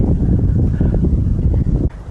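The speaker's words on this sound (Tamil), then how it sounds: "ஃபுல்லாக காற்று." Strong wind on a hilltop buffets the microphone in a steady, loud low roar with gusty swells, dropping briefly near the end before surging again.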